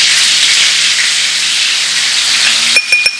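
Minced garlic goes into a hot paella pan with a loud, steady sizzle and hiss, and a couple of metallic clinks come near the end.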